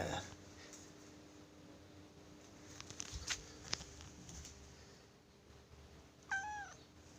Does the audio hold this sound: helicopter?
no